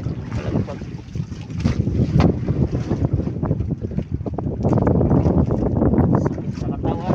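Wind gusts hard on a small boat at sea, a rough buffeting roar full of microphone wind noise and water sounds, continuous and close, with a voice speaking faintly underneath at times.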